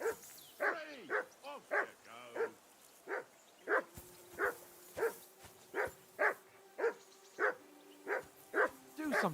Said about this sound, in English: Damn dog of yours barking